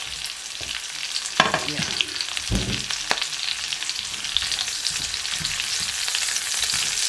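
Chopped onion sizzles and fries in hot oil in a pan while cooking bitter melon with kidney beans, a steady crackling hiss broken by a few clanks of a utensil stirring, with a brief spoken word.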